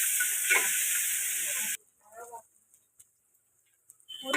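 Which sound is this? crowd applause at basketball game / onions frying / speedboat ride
onions frying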